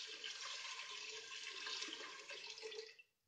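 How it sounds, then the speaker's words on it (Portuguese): Water pours steadily into a pot of brown rice for about three seconds, a close hissing splash that stops abruptly, with no talking. "Vou colocar a água."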